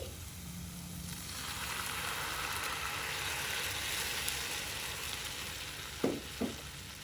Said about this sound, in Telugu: ఇప్పుడు స్టవ్ ఆఫ్ చేసుకుని దీనిలో పాలు పోసుకోవాలి.